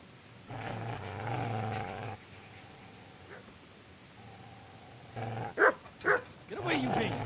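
Dog growling and barking, low rumbling growls followed by several sharp close barks, mixed with people talking.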